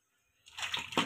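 Water is poured into a pan of fish curry, a short splashing gush that starts abruptly after a brief near-silence and builds over about half a second.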